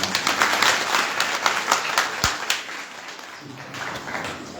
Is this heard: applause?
yes